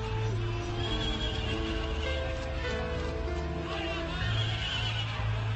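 Horses ridden through a city's Western Gate in 1939: repeated neighs and whinnies with some clip-clop, over a constant droning background.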